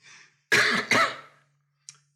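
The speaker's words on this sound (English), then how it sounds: "sorry for the cough" A couple of harsh, close coughs in quick succession after a brief breathy sound, followed by a faint short click, with no talking.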